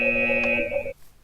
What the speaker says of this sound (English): We've got an alarm system here that the Answer made.